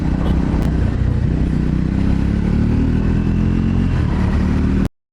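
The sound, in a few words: Scrambler motorcycle engine revving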